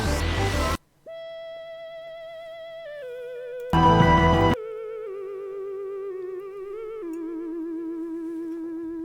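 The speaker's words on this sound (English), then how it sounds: "the theremin sounds like this" A theremin run through a guitar amp with lots of delay sings a long wavering tone with heavy vibrato, gliding and stepping between pitches, broken by two short bursts of loud distorted noise.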